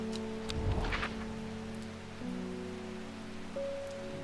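Rainfall in the video game Strange Horticulture, a quiet steady patter with a soft rumble swelling near the start, layered under sustained background tones and brief chiming notes, without any talk.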